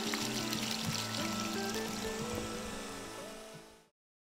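Fuel pours into a piece of construction equipment, a steady close gushing stream that fades out and stops near the end.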